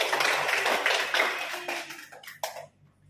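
Classroom applause from students, a quick scattered patter of hand claps that is fairly close and moderately loud, then thins into a few last separate claps before fading.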